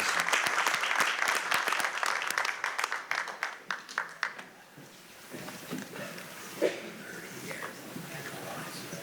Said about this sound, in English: a nice round of applause for all these legacy employees